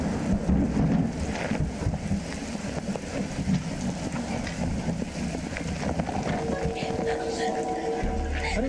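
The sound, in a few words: rain with thunder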